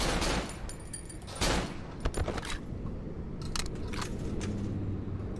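Gunfire in the horror game Cry of Fear, a scattering of sharp, separate shots and bursts over a low rumbling background, some louder and closer, others quick and clipped.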